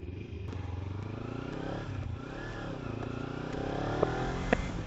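A Kawasaki Ninja 300 with an aftermarket exhaust revs up and down through several throttle blips, its exhaust note rising and falling, close by with faint clicks.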